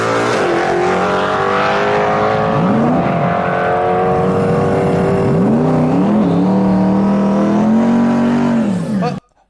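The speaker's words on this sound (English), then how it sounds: "By the way, it's a stick shift car. That's a man's car." Stick-shift race car with a Coyote engine accelerating hard, loud roaring revs climbing through several gear changes with audible shift dips, close by, then cutting off abruptly at the end.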